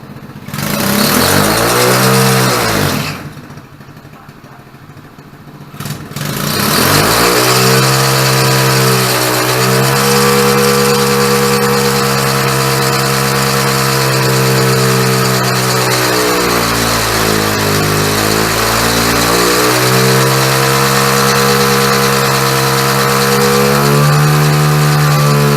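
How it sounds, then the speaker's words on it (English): A Chinese ATV, starting to overheat, revs hard while doing a tire-spinning burnout. The engine drones steadily, dips briefly and then climbs back, with the pitch wavering as the tires spin. Loud, close and continuous, with no voices. "Barely has enough power to spin the tires now."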